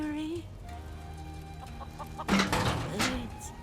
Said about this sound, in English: So we just need to catch your chickens, right?